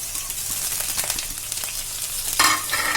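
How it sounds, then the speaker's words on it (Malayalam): Ginger stirred and fried in a pan for inji curry, a steady close sizzle with scraping stirs, swelling louder near the end; no voices. "അതൊന്ന് ശരിക്കും ഇളക്കി കൊടുക്കണം. ഈ ഇഞ്ചി ഒരു ബ്രൗൺ കളർ ആവുന്നത് വരെ നമുക്ക് ഇളക്കിക്കൊണ്ടിരിക്കണം."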